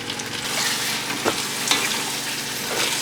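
Canned tomatoes go into a sizzling butter chicken sauce, giving a steady, close frying hiss with occasional stirring scrapes and no talk over it.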